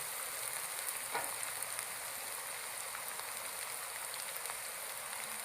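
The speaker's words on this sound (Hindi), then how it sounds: "ये देखें अदरक लहसुन हमारा भुन गया" Ginger garlic paste fries in a pan with cumin powder and nigella seeds for a pumpkin and chana dal curry, giving off a faint, even, rain-like hiss that runs unbroken throughout.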